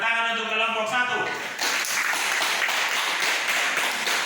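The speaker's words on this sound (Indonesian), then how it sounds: "tepuk tangan untuk kelompok 1" Applause from a class breaks out partway through and continues steadily, a dense crowd clapping after a voice trails off at the start.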